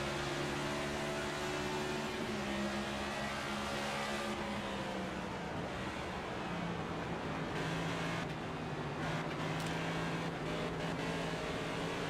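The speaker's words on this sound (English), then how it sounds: "you can hear him get in and out of the throttle, in and out of the throttle" A NASCAR race car engine in the NASCAR 25 video game, a continuous droning roar whose pitch rises and falls as the driver gets in and out of the throttle, loud and steady with no voices.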